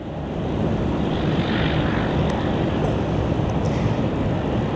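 A propeller plane at Phoenix Sky Harbor airport roars continuously and loudly for several seconds, a dense, rough engine drone filling the scene with no speech.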